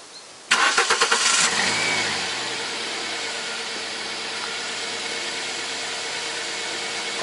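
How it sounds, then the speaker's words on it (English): A Toyota Corolla engine cranks with a rapid chugging starter, catches, and settles into a steady, even idle that continues to the end. "now I go to start engine"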